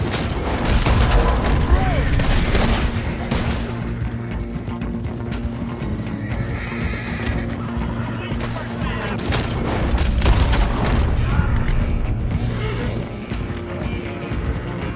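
Horses galloping with hoofbeats and occasional neighs during a shootout in Red Dead Redemption 2, with booming gunfire mixed in over steady game music and ambience, loud throughout.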